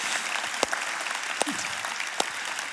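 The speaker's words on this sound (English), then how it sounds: "put your hands together for them" A church congregation applauds, a dense even wash of clapping with a few sharper claps standing out.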